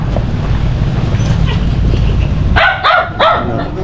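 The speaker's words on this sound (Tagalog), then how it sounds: "Paingay yung aso." A dog barks in a short burst of three or four close yaps near a tricycle, following a stretch of steady low rumble and background noise.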